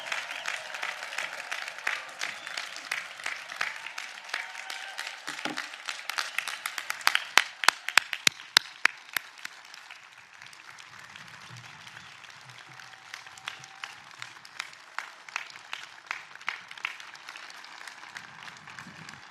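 Audience applause at a law school convocation ceremony, a sustained wash of many hands clapping that swells with a few sharp louder claps, then thins to a lighter, scattered patter.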